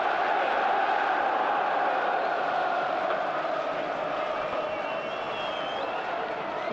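A football stadium crowd at a Newcastle United match roars in a broad, steady wash of cheering, with a faint whistle-like tone drifting above the noise.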